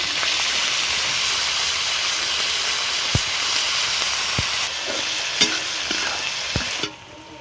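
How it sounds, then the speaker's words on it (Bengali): Beans, chicken and egg fry together in a pan, giving a steady loud hiss with a few sharp scraping knocks of a spatula stirring, and no one talks. "এখানে বিনস, চিকেন, ডিম একসঙ্গে ভেজে নিচ্ছি"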